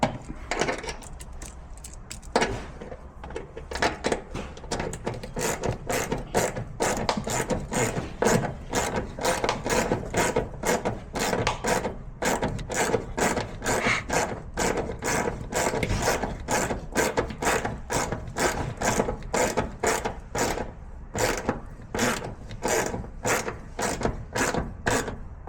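A ratchet wrench tightens the solenoid bracket bolt on a 1966 Pontiac GTO, producing a long run of rapid, close clicking pawl strokes with brief pauses between bursts.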